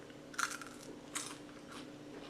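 Homemade french fries cooked in a Ninja Foodi Grill are bitten into: two crisp, close crunches about a second apart, followed by softer chewing, with no talking.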